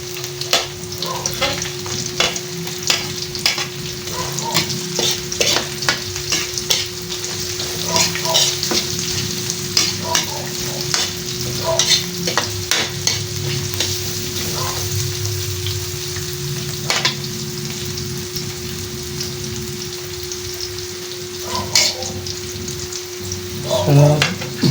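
Onions sizzle and fry steadily in a hot pan as a base for dinuguan, the Filipino pork blood stew, with frequent scraping stir strokes layered over the continuous crackle throughout.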